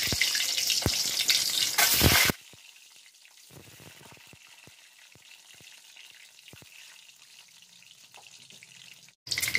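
Boiled eggs drop into hot mustard oil with a loud burst of sizzling for about two seconds. A quieter, crackling fry follows with scattered pops, then another loud burst at the end.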